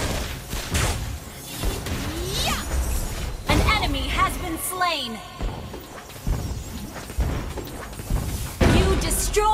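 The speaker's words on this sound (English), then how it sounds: "You destroyed a turret!" A turret is destroyed in a video game: a bright shattering crash with bursts and pops, set among busy game effects and overlapping announcer voices.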